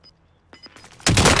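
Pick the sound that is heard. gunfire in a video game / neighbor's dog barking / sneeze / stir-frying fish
gunfire in a video game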